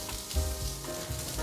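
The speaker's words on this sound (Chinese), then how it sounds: "接着来炒红萝卜，把红萝卜炒至变色。" Carrots stir-fry in a pan with a steady close sizzle and the soft scrape of stirring, brief and continuous with no talk.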